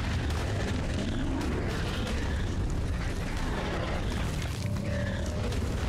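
Dragon fire breath in ARK: Survival Evolved comes as a dense, continuous roaring rush with booming low rumble, loud and unbroken throughout.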